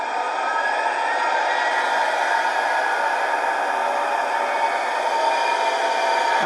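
A Lenz O gauge Deutz KG230B diesel model locomotive rolls along, giving a steady whirring motor drone with rail hum at constant loudness throughout, without talk.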